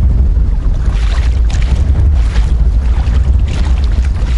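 Strong headwind blowing straight up the river buffets a kayak, a loud, continuous roar of wind and water noise close to the paddler with no talk.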